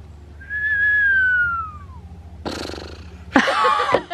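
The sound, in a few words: person attempting to whistle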